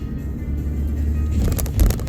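A car picking up speed on a road before merging, a steady low engine and road rumble building in loudness, with a few louder bumps near the end and no talking.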